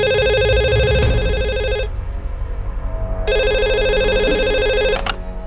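Office telephone bell ringing in two loud electronic bursts separated by a short pause, with faint room noise underneath.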